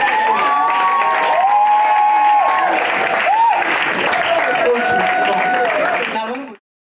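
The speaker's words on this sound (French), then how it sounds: "Est-ce qu'on peut faire un tonnerre d'applaudissements pour Jésus?" A loud crowd applauds and cheers at a Christian fair event, with steady clapping, shouts and whistles filling the space before cutting off abruptly near the end.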